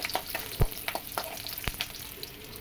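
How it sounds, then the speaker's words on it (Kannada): Garlic sizzles and crackles steadily in a hot pan while frying for a bassaru curry, with a few louder stirring knocks and pops close up. "ಸ್ವಲ್ಪ ಫ್ರೈ ಮಾಡ್ಕೊಳ್ಳೋಣ ಸಾಕು."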